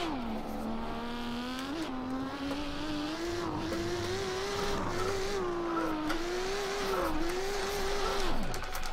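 A car drifting in Assetto Corsa, with a sustained engine whine over continuous tire squeal and skidding that varies in pitch and ends in a falling tone.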